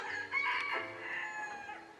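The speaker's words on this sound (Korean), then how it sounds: "닭도 우러대고요" A rooster crows once along a rural forest road in Jeolla province, the call moderately distant and clear over a quiet background.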